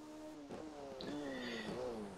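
A BAC Mono race car braking through a hairpin, its engine note sweeping and falling as it slows and then picking up again, heard from a distance with a slightly locked-up entry.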